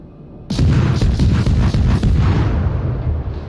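Main guns of the German Tier III cruiser Kolberg in World of Warships fire a loud, close salvo that erupts suddenly and rumbles for a few seconds in a heavy, booming roll before slowly fading.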